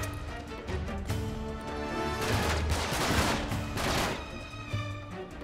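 Gunfire in the video game Uncharted 3: Drake's Deception: dense, loud bursts of shooting roll on steadily over music-like tones, with heavier volleys swelling midway.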